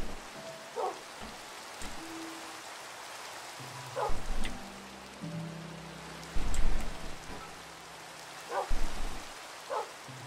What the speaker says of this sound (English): What a terrible day for rain.